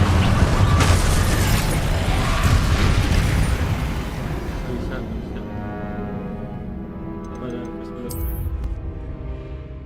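The Incendio fire spell cast in Hogwarts Legacy, a loud roaring fiery blast that gradually dies away into crackling and lighter ambient game sounds.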